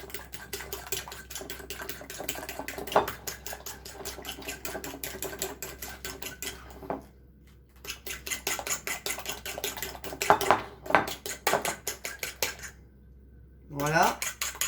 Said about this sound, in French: Donc, vous battez bien vos œufs.